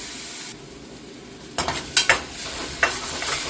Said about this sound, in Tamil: தக்காளி பழம் நல்லா மசிஞ்சு வதங்கட்டேன்